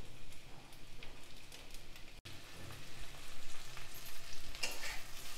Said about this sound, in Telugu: ఇవి తక్కువ సెక మీద కాసేపు వేయించాలి.